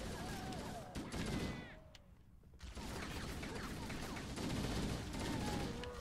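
Rapid gunfire in Halo: Combat Evolved, dense automatic bursts rattling close and loud with whizzing and ricochet-like tones, dropping briefly to a lull before the firing resumes.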